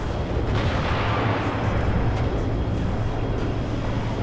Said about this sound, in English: we've got even more missiles coming in.